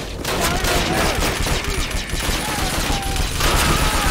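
Sustained, loud gunfire from a weapon in the PC game Call of Duty: United Offensive (2004), a dense burst of shots with game action behind it.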